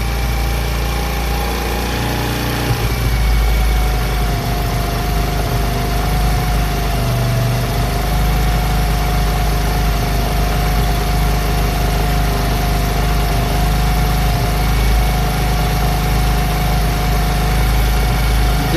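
A motorcycle engine idles loudly and steadily close by as its carburetor mixture screw is adjusted, its pitch rising slightly early on and then holding an even, buzzing rev.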